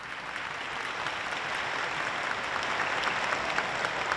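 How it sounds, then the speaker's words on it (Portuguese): Applause from the audience at a formal ceremonial session, a crowd clapping steadily that swells slightly after the start and continues evenly to the end, with no voices on top. "quero pedir uma salva de palmas ao Dr. Sandro Avelar"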